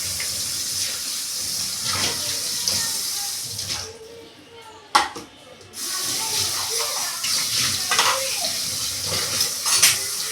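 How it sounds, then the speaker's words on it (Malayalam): Tap water runs steadily while dishes and cutlery clink and clatter close by, briefly pausing before the washing resumes. "കുറച്ച് പാത്രങ്ങൾ നമുക്ക് കഴുകിയെടുക്കാം."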